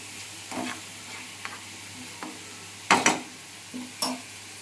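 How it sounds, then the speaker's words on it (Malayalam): Spice paste being stirred into fried onions in a pan on a low flame, several short scraping stirs with soft sizzling between them, close and fairly quiet. "ഞാൻ ആ നേരത്തെ അരപ്പ് ഇതിലോട്ട് ആഡ് ചെയ്ത് കൊടുത്തിട്ട് ഗൈസ് അത് നന്നായിട്ട് മിക്സ് ചെയ്ത് കൊടുക്കണം"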